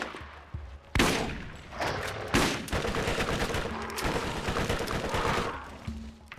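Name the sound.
SMG gunfire in video game Borderlands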